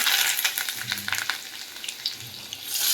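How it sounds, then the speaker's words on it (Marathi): Mustard seeds, cumin, asafoetida, garlic and curry leaves sizzle in hot oil with a bright, steady hiss and scattered crackles and pops, close up and with no talking. "मोहरी टाकते, जिरे टाकते, हिंग टाकते, लसूण टाकते, कढीपत्ता"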